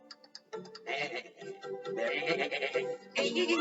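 Sheep in a cartoon bleat in several quavering, nasal calls that overlap one another. The bleats start with a few short clicks and grow into loud, sustained cries.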